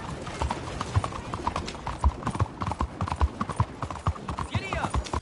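Horse hooves clip-clop at a steady galloping rhythm in a Red Dead Redemption 2 ride, close and fairly loud, with a brief whinny near the end and shouted speech over the hoofbeats.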